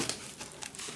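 Parcel packaging from Spain being cut open, with quick crinkling and tearing scratches of plastic or paper up close, short and fairly quiet.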